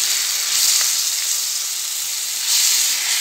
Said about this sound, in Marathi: जिरे मोहरी छान तडतडली की आपण त्यात चॉप केलेला कांदा टाकून घेऊया आणि छान असा गुलाबी रंग येईपर्यंत कांदा आपण परतून घेऊया